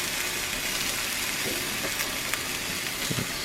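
Salmon sizzles steadily in a cast iron pan, a continuous close crackling hiss with a few soft stirring or utensil clinks and no talking.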